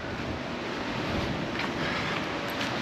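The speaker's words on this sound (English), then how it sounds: "it got windy." Strong wind roars across a surf fishing beach, a dense steady rush buffeting the microphone with breaking waves blended underneath, loud and unbroken.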